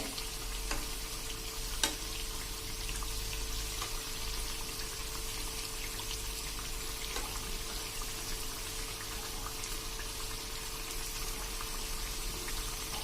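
Potato chip bhajiya frying in oil, a steady dense sizzle and bubbling crackle that continues evenly throughout, close and moderately loud, with no speech.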